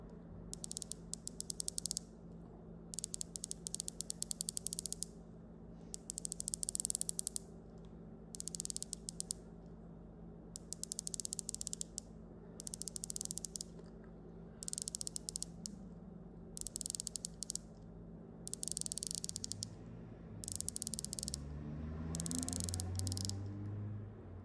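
A series of crisp, evenly spaced ratcheting clicks from the rotating bezels of Rolex, Zodiac and Tudor wristwatches, heard up close in short bursts separated by pauses, with a low hum running underneath.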